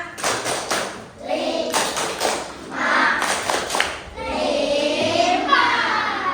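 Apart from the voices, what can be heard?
children clapping for group 5 in class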